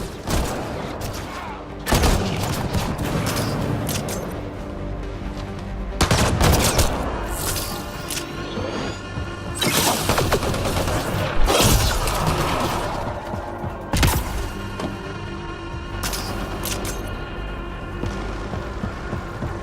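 A firefight in the video game Mass Effect Andromeda, with repeated bursts of loud gunfire and sharp blasts recurring every few seconds over a steady rumbling background.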